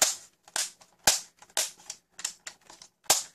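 A Dart Zone Pro MK-2.1 foam dart blaster is primed repeatedly, giving sharp plastic clacks and snaps in quick irregular pairs, close and fairly loud with no one talking.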